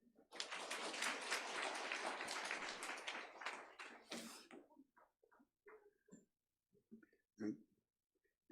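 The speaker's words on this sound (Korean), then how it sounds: "여러분 박수해 주시기 바랍니다." A church congregation gives a burst of dense applause during a Sunday service honouring teachers; the clapping stops after about four seconds, leaving scattered taps, coughs and small noises in a quiet room.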